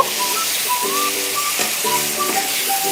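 Sweet pumpkin fries in spice paste in a kitchen pan while being stirred, giving a continuous sizzle and hiss with faint tonal whistles running through it.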